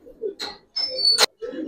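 Cooing bursts from a Giribaz silver pankhi pigeon, several short soft coos with brief pauses and one sharper high note, close by in a quiet pigeon house.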